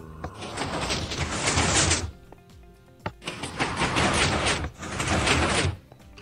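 A door in the game Minecraft opening and closing, heard as three loud, broad whooshing bursts of about two seconds each, with short quiet gaps and a faint click between them and no talking.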